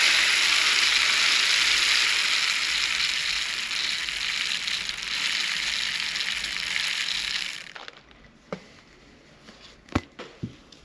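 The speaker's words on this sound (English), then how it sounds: "Then I'm going to use some poly pellets to fill it." Poly pellets poured into a sock set inside a cup make a dense, continuous rattling hiss for several seconds that abruptly stops, followed by a few isolated clicks and taps.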